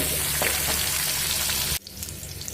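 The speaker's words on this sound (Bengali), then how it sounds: "কিশমিশগুলো হালকা একটু ভেজে নেব" Raisins fry lightly in ghee in a pan for vermicelli payesh, a dense close sizzle with small pops that drops sharply to a quieter fizz near the end.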